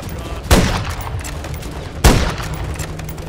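In Modern Warfare III, two sharp, loud gunshot blasts ring out about a second and a half apart over a low battlefield rumble.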